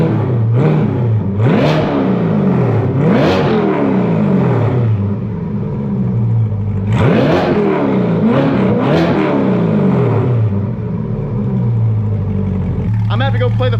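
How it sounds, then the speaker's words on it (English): Chevrolet Corvette C8 with a titanium exhaust revving hard from outside the car, several loud rising blips and sweeps in two bursts with steady idle rumble between. "I'm gonna put the camera outside and we're gonna get some revs"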